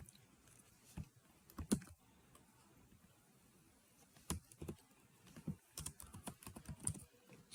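Code being typed on a computer keyboard, with quiet scattered key clicks in irregular bursts that grow busier toward the end, and no talk.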